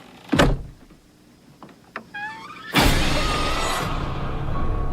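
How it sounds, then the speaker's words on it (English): A closet door in a home swings shut with a single solid thunk, followed by a loud broadband rush that lingers to the end, with a few faint tonal chirps just before the close. "Can you close the closet door?"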